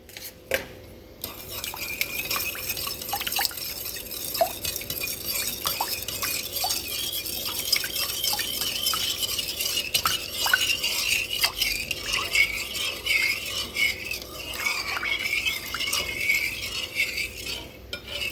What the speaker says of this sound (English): And then we stir our sugar to dissolve it.